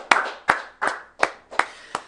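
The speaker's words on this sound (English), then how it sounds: "Round of applause for the bear flag." Six evenly spaced, crisp hand claps, close and fairly loud, with quiet gaps between them and no other sound.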